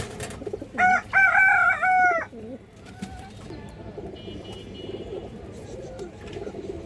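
A large army-breed female pigeon coos softly under a loud rooster crow near the start, with people talking faintly in the background.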